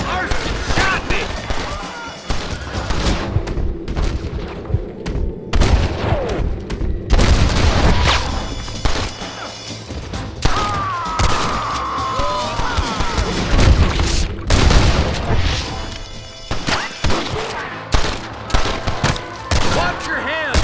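A Red Dead Redemption shootout fills the scene with heavy, continuous gunfire: overlapping rifle and revolver shots, booms and crashes pounding close and loud, while voices shout over the barrage.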